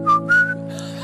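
A person whistles a short tune, two clear sustained notes rising slightly, close and loud, over a steady musical background of held tones.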